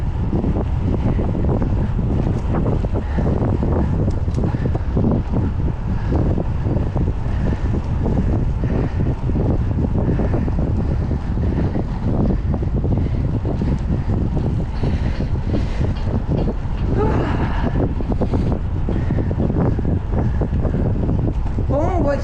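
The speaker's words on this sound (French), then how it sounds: "Ah, il y a quand même un petit vent ce matin." Strong wind buffets the microphone of a bicycle rider on a morning ride through town, a steady, loud rushing roar that runs the whole time with brief voice sounds mixed in.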